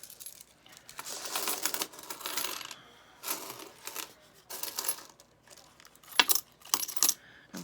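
Loose saved pocket-change coins dropping and clinking as they are counted, bursts of jingling and rattling separated by short pauses, close up with a few sharp metallic clinks near the end.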